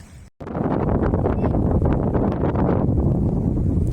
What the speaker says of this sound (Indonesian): Anginnya kenceng banget